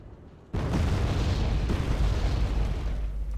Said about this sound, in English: Hatch's Marines have been bombed again quite heavily.